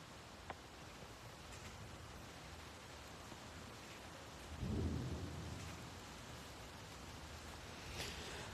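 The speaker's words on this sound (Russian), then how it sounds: "Сейчас наконец-то дождь пошел." Steady rain pours on outdoors, with a deep rumble of thunder rolling in about halfway through before the downpour continues alone.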